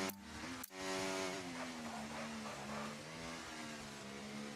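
An F1 race car in a racing video game roars through a lap at the Belgian Grand Prix, its engine note steady and loud with rising and falling harmonics after a brief cut near the start; no talking.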